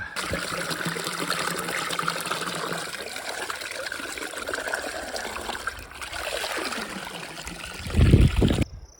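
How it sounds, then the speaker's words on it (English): Fresh spring water pours steadily into a cattle trough at a trailside water source, a continuous close trickle and splash, with a brief louder burst of handling near the end. "pretty awesome little source where there's 2 cattle troughs with some fresh water from a spring pouring in"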